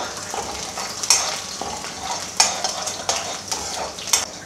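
Garlic cloves sauté in a pan for kara chutney, with a continuous bright sizzle and a few distinct clinks and scrapes from a spatula as it is stirred, close by.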